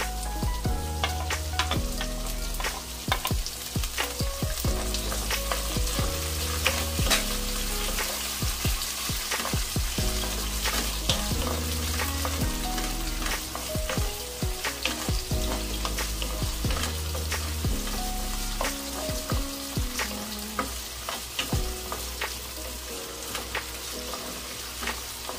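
Tomato and ginger sautéing in a pan for ginataang big head fish, a steady close sizzle and fry with occasional stirring clinks, continuous and fairly loud with music-like tonal bands underneath.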